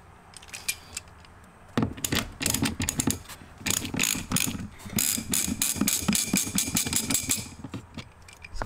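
A hand ratchet loosens T20 Torx screws from a cover plate in a BMW F30, its rapid pawl clicks coming in close, repeated bursts with brief pauses and faint metallic handling between them.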